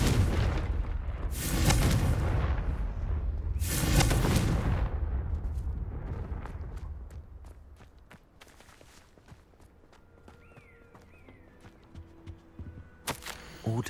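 Confringo fire-blast spells explode in Hogwarts Legacy, two big booming blasts followed by a rumbling tail, then sparser sharp impacts and footsteps as the scene quiets into scattered clicks and effects.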